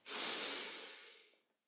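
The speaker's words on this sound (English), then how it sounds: "Let's take a deep inhale to chant." A single deep, slow inhale through the nose before chanting in a Kundalini yoga practice, close and breathy, swelling quickly and then tapering off over about a second and a half.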